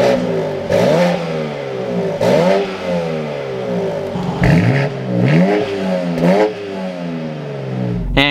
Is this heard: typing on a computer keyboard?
no